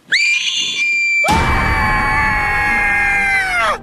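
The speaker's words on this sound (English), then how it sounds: "did I just hear a shark scream?" A loud, shrill scream rings out, briefly cuts off, then resumes as a long, sustained high-pitched shriek close up.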